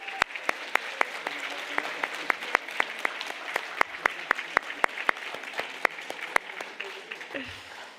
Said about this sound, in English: giving a very big round of applause to all of those who are not here